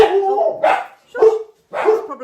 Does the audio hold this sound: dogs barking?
yes